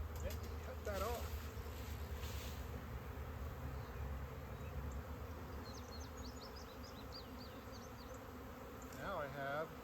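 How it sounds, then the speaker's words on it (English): A swarm of honey bees buzzes steadily and close throughout, spilled onto a tarp and the ground during a beekeeping swarm capture, with a voice speaking briefly over the hum. "a tarp full of bees and the ground full of bees."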